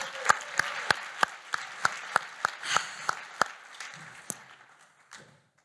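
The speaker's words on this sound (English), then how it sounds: "one more round of applause for my brilliant friend" A round of applause at a stage event honoring a speaker, heard as a series of distinct, evenly spaced loud claps, about a dozen in rhythm, tapering off into quieter scattered sound.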